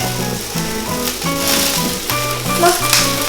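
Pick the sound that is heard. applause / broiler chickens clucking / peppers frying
peppers frying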